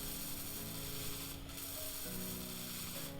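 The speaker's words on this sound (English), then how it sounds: "Let's go ahead and get this welded up here." Welding in the space-building game Space Engineers, a steady hissing, crackling tool sound with shifting mechanical hum layered beneath, continuous and close for a few seconds.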